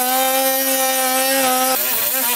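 A power tool cuts into a motorcycle frame to make room for crash bars, giving a loud, continuous whine with strong tonal overtones that drops in pitch briefly near the end.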